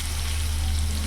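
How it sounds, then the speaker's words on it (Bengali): Potato strips seasoned with salt and turmeric fry in hot oil, giving a steady, close sizzling hiss that holds level through the short moment. "ওই তেলের মধ্যে আমি এখানে আলুগুলো ভেজে নেব"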